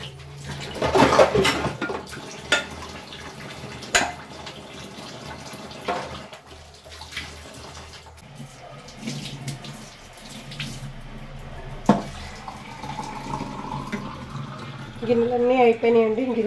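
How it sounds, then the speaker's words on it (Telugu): Dishes being washed in a home kitchen sink under a running tap, water splashing with intermittent clatter of pots and bowls knocking, while a person talks over it at times. "ఇంకా గిన్నెలు కడిగేసేయాలి."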